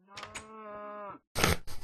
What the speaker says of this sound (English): Cow disagreeing there.